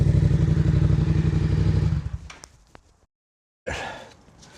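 A motorcycle engine revs hard and loud at about 110–112 decibels, then cuts out with some clatter, a moment of silence, and a muffled noise returns.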